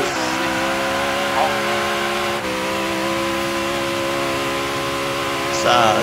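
A high-horsepower car engine drones steadily, a sustained loud hum with little change, while people talk over it briefly near the end.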